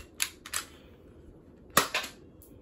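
Airsoft BB gun firing, four sharp snapping shots in two quick pairs, close and crisp against a quiet background.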